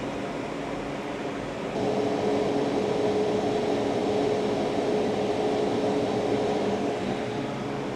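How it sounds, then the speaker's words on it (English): A multi-hose drying blower runs in a flood-damaged camper van kitchen with a steady, loud roar and a faint tonal whine, unchanging throughout, close by with no talking. "So octopus hairdryer is still in here"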